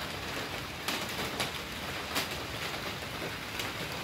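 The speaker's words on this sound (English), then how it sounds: "it's raining like crazy" Steady heavy rain pours down in a continuous broadband hiss, with occasional louder drops or splashes standing out against the constant wash.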